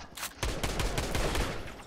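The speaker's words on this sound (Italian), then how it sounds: "Distruggilo e sparo col cecco." A rapid burst of sniper rifle gunfire in the Fortnite video game, several sharp close shots cracking in quick succession with no talking.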